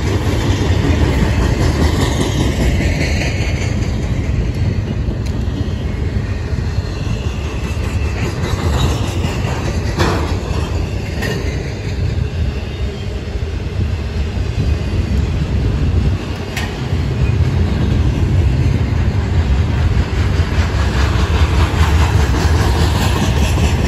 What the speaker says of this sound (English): This is another intermodal, and I'm guessing this one, yeah, I remember this one was crossing over to the track 1 to track 2.